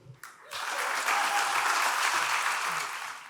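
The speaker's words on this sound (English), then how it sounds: "I wish my mom were here to hear those applause." Applause from a gala audience at a charity anniversary event swells in after a brief pause and holds as a broad, even wash of many hands clapping.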